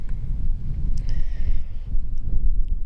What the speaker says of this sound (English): there is a wind that's cutting through me